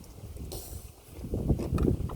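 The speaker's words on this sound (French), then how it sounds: "Alors il y a beaucoup de vent" Strong outdoor wind buffets the microphone in low, rumbling gusts that swell toward the end. No one speaks over it.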